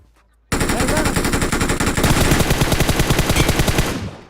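Automatic gunfire in PUBG Mobile, a loud, sustained rapid burst of shots opening abruptly after a short silence and rattling on at a steady fast rhythm for nearly four seconds.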